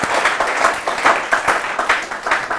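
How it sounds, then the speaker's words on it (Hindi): A studio audience at a televised business show breaks into loud, sustained applause, dense rhythmic clapping close up throughout with no voices over it. "एक बार जोरदार ताली।"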